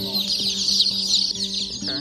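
Chickens cluck and chatter steadily in a busy, crowded hatchery, with a constant high-pitched hum of many birds throughout.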